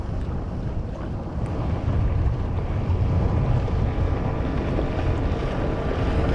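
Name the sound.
strong wind blowing into the microphone by the river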